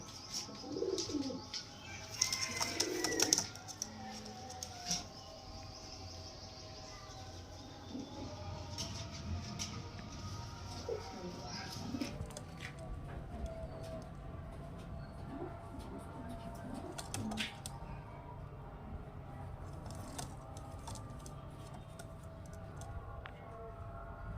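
Pigeons, Kalshira, Highflyer and Giribaz breeds, coo softly in low repeated calls, with a brief burst of sharper bird sound near the start and a faint rumble in the background.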